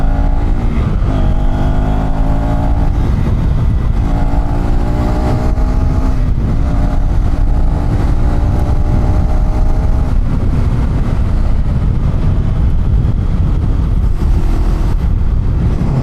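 A KTM 390 SMC R motorcycle engine revs loud and close, its pitch climbing and falling in repeated pulls with a throaty, continuous roar.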